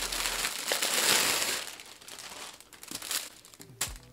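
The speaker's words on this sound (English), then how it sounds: "Let's remove the paper and let me bring it closer." Paper wrapping around a Chanel medium classic flap bag crinkles and rustles close up as it is pulled off, in bursts of crisp crackling with brief pauses.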